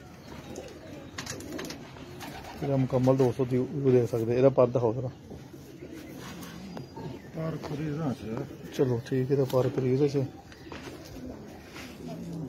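Sialkoti pigeons coo in repeated throaty, rolling bursts close by, two clear bouts with a pause between them. Someone talks intermittently over and between the calls.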